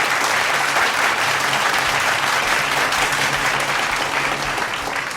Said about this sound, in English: A very big round of applause to Mukesh.